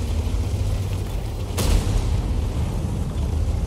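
A single heavy tank cannon shell strikes a wall in World of Tanks, one loud booming impact near the middle standing out over a steady low rumbling game background.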